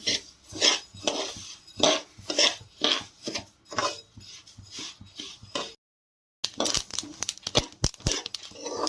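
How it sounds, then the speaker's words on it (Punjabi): Flaxseed dry roasting in a kadai, with repeated rhythmic scraping stir strokes and light crackling ticks, fairly close, a short silent gap midway and no talking. "ਜਦੋਂ ਟਕ ਟਕ ਦੀ ਆਵਾਜ਼ ਜੀ ਆਉਣ ਲੱਗ ਜੇ ਪਤਾ ਲੱਗ ਜਾਂਦਾ ਵੀ ਅਲਸੀ ਭੁੱਜਣ ਲੱਗ ਗਈ ਆ"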